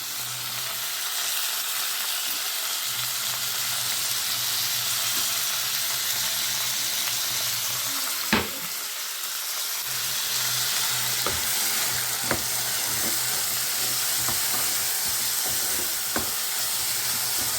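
Tomatoes sautéing in a pan for carrot chutney, a steady close sizzle and fry with a few sharp clinks and stirring knocks, no voices.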